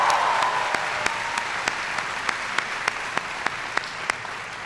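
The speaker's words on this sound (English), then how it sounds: "Please give Cynthia a big round of applause for the great introduction." Audience applause fills a town hall event in Lima, Peru, a dense steady patter of clapping with a few sharper, louder individual claps standing out at regular intervals.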